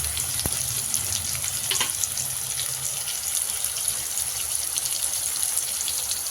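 Steady, dense sizzling of potatoes frying in a pan with oil, a constant hiss throughout with a few faint knocks early on, no voices.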